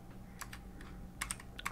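Soft keystrokes on a computer keyboard while coding in Android Studio, a few scattered taps followed by a quicker cluster of clicks, quiet and close.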